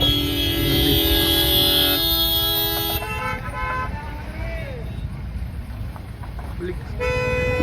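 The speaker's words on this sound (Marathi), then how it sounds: "एवढी ट्रॅफिक आहे एवढी आज गर्दी आहे" Dense road traffic near Bhimashankar on a busy holiday: several car horns toot in long overlapping blasts over a constant engine rumble, with shorter honks breaking in later, loud and close throughout.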